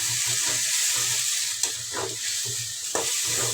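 Leafy greens and stems for a chutney sautéing in a pan, a dense continuous sizzle with rhythmic scraping strokes of a stirring spoon and a couple of sharp clinks against the metal.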